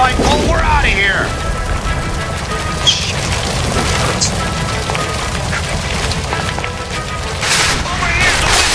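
In the L.A. Noire video game, a shot gas line near a stove blows up in a heavy booming blast, followed by rumbling debris and crackling, while voices shout over the chaos.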